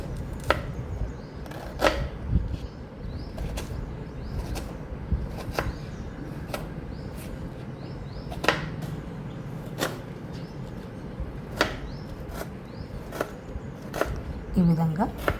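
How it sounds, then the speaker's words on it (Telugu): An onion is sliced very thinly on a cutting board for a Telugu summer pachhi pulusu, the knife landing in a steady series of sharp, close chops with a low background hum and no talking. "ఇప్పుడు సన్నగా తరుక్కోవాలండి ఉల్లిపాయను"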